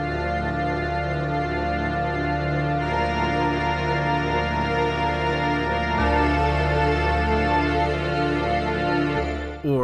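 Sustained pipe organ chords with choir-like voices from the KAMUI video game soundtrack, dense and continuous, swelling slightly midway and cutting off abruptly at the end.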